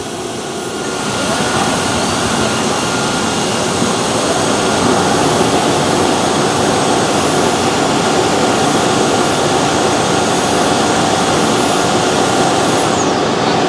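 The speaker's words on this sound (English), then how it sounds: "Heated self-cleaning has started. They're both going to put solution down and then suck up the solution." Tineco Floor ONE S7 and S6 wet-dry vacuums running heated self-cleaning, a steady loud whirring motor roar with a high whine, continuous and close throughout, no talking.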